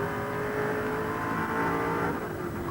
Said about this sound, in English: listen to that deep-throated roar of the engine. The big V8 as he sets out in pursuit of Moffat.